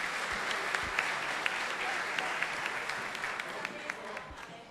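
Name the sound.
audience applause for a speaker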